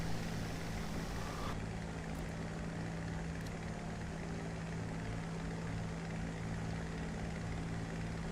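A P-47 fighter's piston engine drones in a flight combat game, a steady, loud, continuous propeller hum with no talk.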